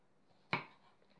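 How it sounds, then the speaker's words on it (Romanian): A single knife stroke chops through onion on a cutting board, one sharp close thunk in an otherwise quiet moment. "Ceapa trebuie să o tăiem felii mai micuțe"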